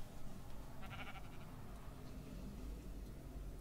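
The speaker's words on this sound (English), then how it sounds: "Now, I've got two new sheep." Sheep in a Minecraft-style multiplayer game bleat once, a short wavering cry over a low muddy background hum.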